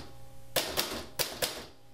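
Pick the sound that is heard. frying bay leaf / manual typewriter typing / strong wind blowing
manual typewriter typing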